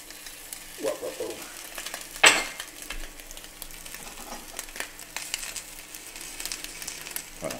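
A burger patty fries gently in a pan with a soft, steady sizzle, broken by a few clinks of a utensil against the pan and one sharp scrape or clatter near the start.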